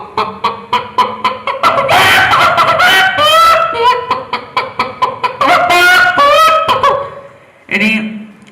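A performer at a school youth arts festival does vocal mimicry of a hen that has just laid an egg, with loud, rapid repeated clucks and cackles rising to drawn-out squawks, followed by a short final call.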